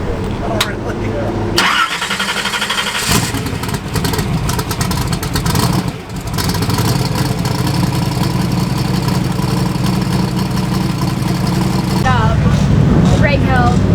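A race car engine cranks and fires, then settles into a loud, rough idle that keeps rumbling close by, with voices mixed in.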